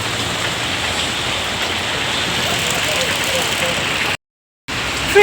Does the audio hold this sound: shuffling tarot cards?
no